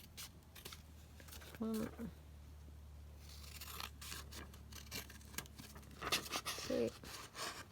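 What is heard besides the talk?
cutting paper down with scissors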